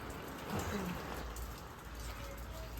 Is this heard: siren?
no